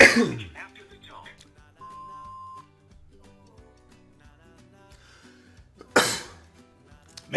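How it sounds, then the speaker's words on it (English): A man coughs and clears his throat in short, loud bursts at the start and again near the end, close to the microphone, with quiet tones and faint background sound in between. "I got the coughs today."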